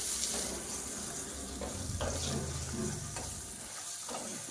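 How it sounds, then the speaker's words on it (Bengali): Potatoes fry in hot oil with a little salt over a high flame, giving a soft, continuous hiss broken by a few stirring scrapes. It sounds close but fairly quiet, and no one speaks. "এবার ওই তেলে আমি সামান্য নুন দিয়ে আলুগুলোকে ভেজে নেব।"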